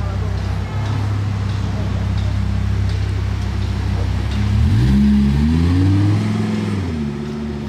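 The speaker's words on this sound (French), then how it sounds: "Démarrage du V10 de la R8." An Audi R8 V10 engine rumbles at a loud idle at a Monaco supercar show, then revs hard in rising and falling sweeps before dropping back, close by, with people talking.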